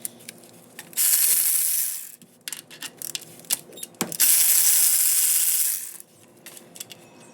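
A ratchet wrench works two 14mm slave cylinder bolts loose on a Nissan Z31 transmission during a clutch install, giving two sustained clicking runs with scattered metallic clinks and taps between them, close up.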